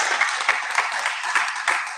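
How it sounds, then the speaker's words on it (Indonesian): A church congregation clapping for God during a service, with quick irregular claps blending into brisk applause over a short burst, close and fairly loud. "Berikan tepuk tangan untuk Tuhan."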